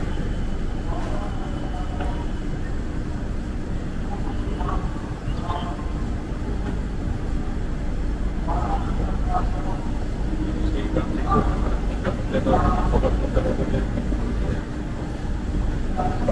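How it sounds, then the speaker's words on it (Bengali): Howrah–Balurghat train pulling out of platform eleven, a steady rolling rumble of wagons with faint clanks and station noise throughout, under background talk. "এগারো নম্বর প্ল্যাটফর্ম থেকে হাওড়া বালুরঘাট এইমাত্র ছাড়লো।"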